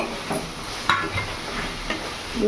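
Pangas fish curry with potatoes being stirred in a pan, with a few soft scrapes and clinks of a utensil over a low, gentle sizzle.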